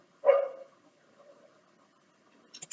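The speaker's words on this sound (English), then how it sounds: "sorry about my dog barking in the background" A single dog bark close by, with a short yip and a quieter trailing sound after it, then faint clicks near the end.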